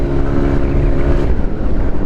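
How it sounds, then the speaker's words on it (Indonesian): A modified CVT motorbike fitted with Philippine-made racing parts roars steadily as its engine revs hard, a loud, continuous rumbling drone with wind buffeting the microphone throughout. "dari raungan motornya, wah ganas ya"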